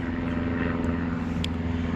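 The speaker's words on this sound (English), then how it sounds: "Oh, the airplanes are just kind of wild today." A steady, low droning hum of an aircraft engine fills the whole stretch, continuous and moderately distant, with no voices.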